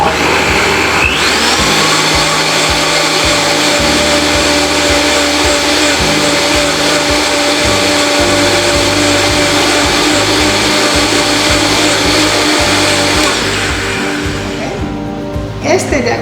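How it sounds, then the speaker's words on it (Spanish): A blender runs steadily at medium speed, whirring pot roast juice for about thirteen seconds before winding down, loud and close with a faint high whine over the motor drone. "Y voy a licuar esto. Velocidad media."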